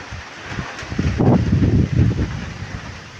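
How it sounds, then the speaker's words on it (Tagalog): Gusty wind roars close to the microphone during a typhoon with heavy rain, with rustling and rushing noise that swells in the middle and then eases. "Malakas ng hangin at ulan dito sa amin."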